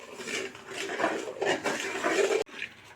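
Coconut flower lehyam being stirred with oil in a pan, a soft continuous scraping and clinking of the spoon against the metal, moderately close, with a brief knock near the end.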